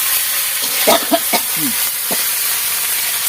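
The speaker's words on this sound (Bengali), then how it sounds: "তেল দিয়ে এইবারে আদা রসুন দিলাম, একটু তেল দিলাম" Ginger and garlic hit hot oil for a tangra fish curry, giving a steady, bright sizzling hiss with a few soft stirring knocks near the start.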